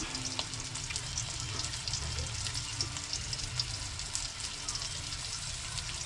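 Dried fish (tuyo) fries in a pan with a dense, steady sizzle and spatter of hot oil, heard up close and continuing for several seconds with scattered pops.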